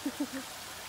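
Pha Sok waterfall in Ubon Ratchathani runs in a steady, even wash of falling water, with a few short faint voice sounds at the start.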